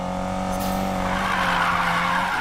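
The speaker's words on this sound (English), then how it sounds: "Lighting up those tires is a piece of cake." Tires squealing as a car drifts in Need for Speed Payback, a loud sustained screech over a revving engine drone, continuous for a couple of seconds with no talk.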